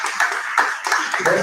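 Short burst of audience clapping for Cox Communications at a live event, a few distinct claps close together over about a second.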